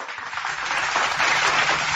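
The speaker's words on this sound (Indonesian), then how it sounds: "Tepuk tangan dulu, teman-teman." A crowd at a religious discussion gathering claps together, a dense, fairly loud patter that rises slightly and holds steady for about two seconds with no talking over it.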